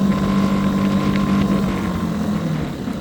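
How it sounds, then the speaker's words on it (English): A Mercury 3.5 outboard motor pushing a Quest Angler 10 boat at cruising speed, a steady close drone with a low hum and wind rush, no talking. "I'm just cruising, but you need you a good cost-effective boat to get out on the water and fish."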